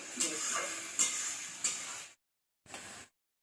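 Chana masala cooked down with Kashmiri red chilli powder in a pan, giving a steady close hiss of sizzling with a few sharp scraping stir strokes, then a short pause and one more brief burst.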